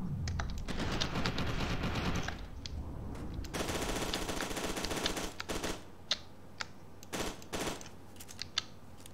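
Rapid submachine gun bursts in the shooter game FEAR 2 come in dense, loud stretches with short gaps, then a few scattered single shots near the end.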